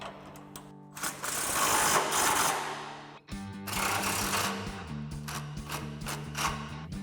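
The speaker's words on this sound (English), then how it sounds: "So now we can tighten both of these down with an 18mm swivel socket." Nuts on Jeep Gladiator JT end links being run down with an 18mm swivel socket, likely on a power tool, as a loud, close whirring burst followed by a second, longer grinding, ratcheting run, with no talking.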